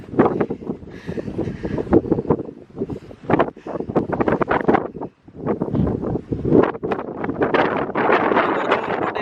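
Strong, gusty wind at Varattumedu, Vagamon, buffets the microphone in loud, roaring bursts with a brief lull partway through, leaves rustling beneath.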